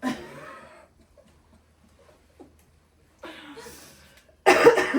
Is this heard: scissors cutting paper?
no